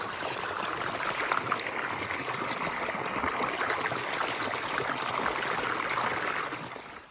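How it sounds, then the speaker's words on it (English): Small spring trickling near the White River outdoors, a steady close wash of running water that holds constant throughout with no talking. "Here's what that spring looks like."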